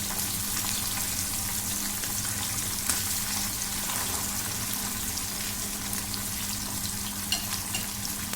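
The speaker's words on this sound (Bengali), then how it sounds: "তো এই পিঠটা মাছ ভাজা হলে আমি তুলে নেব।" Pomfret fish frying in hot oil makes a loud, dense, continuous sizzle and spatter close to the listener, without any talking over it.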